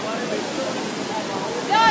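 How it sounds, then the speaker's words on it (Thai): A waterfall pours in a steady, dense rush of water that holds even throughout, with a short vocal sound rising at the very end. "ตอนนี้อยู่ที่น้ำตกนะ"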